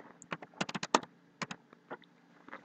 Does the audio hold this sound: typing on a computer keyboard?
yes